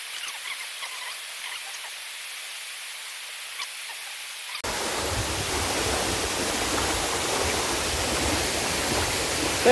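Kakapian Falls pours down as a steady, full broadband roar after a quiet stretch, the rush of falling water filling the second half of the clip with no voices.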